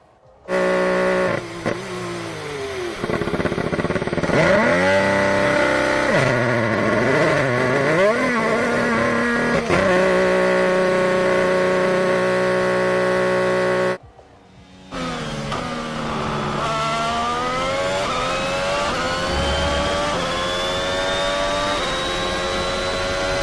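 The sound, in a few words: F1 22 race cars racing wheel to wheel, video game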